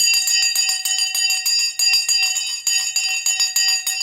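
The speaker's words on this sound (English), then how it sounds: "The bell has gone." A bell rings steadily and loudly, its bright tone struck again and again in a fast, even pattern of repeated strokes, sounding near and alone with no talk over it.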